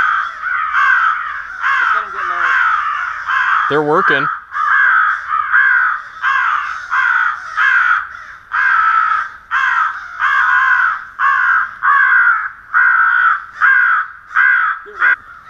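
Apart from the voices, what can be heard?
crows cawing during crow hunting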